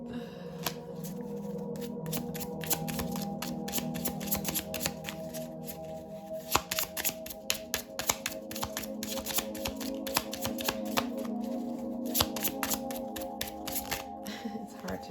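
A deck of cards is shuffled close up in a steady run of crisp, rapid riffling clicks and snaps, continuous over several seconds with a few sharper slaps standing out.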